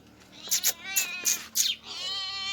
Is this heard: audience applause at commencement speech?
no